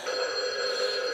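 A telephone rings with a bright, steady electronic tone, close and fairly loud, lasting about a second with no talk over it.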